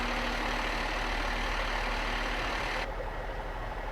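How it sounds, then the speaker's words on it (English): A hazmat rescue truck levels itself automatically, a steady low hydraulic and engine drone with a constant whine that drops off sharply near the end, leaving a quieter idle. "Once you've engaged auto, it takes up to 2 minutes for the vehicle to level itself."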